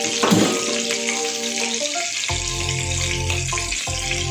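Onions sizzle and crackle as they fry in hot oil for Chinese-style macaroni, a steady frying hiss with a faint tonal hum underneath.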